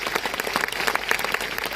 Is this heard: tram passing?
no